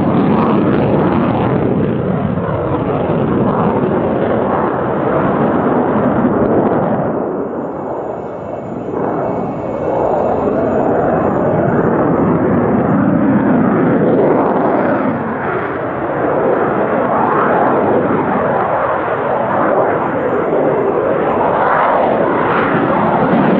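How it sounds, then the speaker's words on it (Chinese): Sukhoi Su-35 fighter jet engine roar, a loud, sustained broadband rumble that dips briefly around the middle and then swells again, filling the whole stretch without any talk. "他们推出了这个苏-35型啊"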